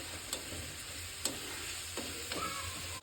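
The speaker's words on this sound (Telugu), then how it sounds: "ఆనియన్స్ ఇట్లా డీప్గా ఫ్రై అయిన తర్వాత మనం ఏం చేయాలి" Sliced onions deep frying in hot oil in a pan give a steady, continuous sizzle, broken by a few light clinks from stirring.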